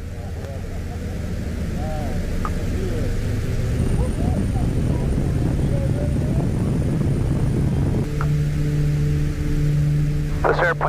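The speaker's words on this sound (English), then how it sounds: "King Air's departing 18 Salt Springs." A King Air twin turboprop airplane taking off, heard from inside as a steady loud engine roar that builds and holds, with a droning propeller hum and brief radio or cockpit voice sounds over it.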